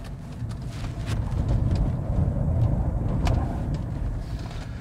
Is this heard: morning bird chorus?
no